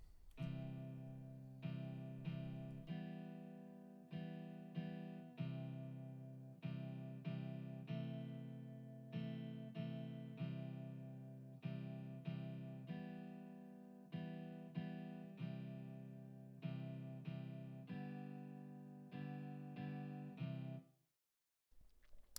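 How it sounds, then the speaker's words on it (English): An electric guitar plays a repeating chord pattern with a full amp tone and a roomy reverb tail, steady and loud, with no voices. "let's listen to the electric guitar"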